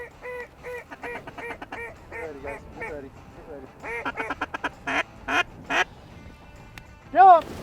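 Duck flocks during a Dakotas freeze-up hunt, quacking in rapid rhythmic series, some calls loud and close, others fainter, ending in a burst of loud nasal quacks.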